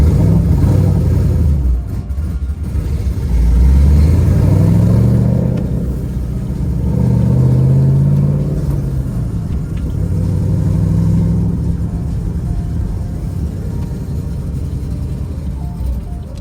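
A Chevrolet Camaro ZL1 engine rumbling loudly and close, with a few swelling revs as it pulls in, then settling into a deep steady idle.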